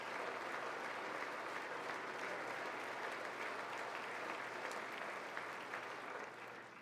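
Steady applause from the audience at a State of the Union address, sustained and dense for several seconds before easing off slightly at the end, with no talk over it.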